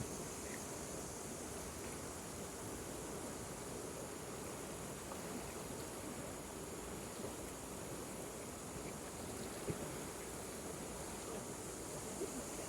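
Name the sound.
river water flowing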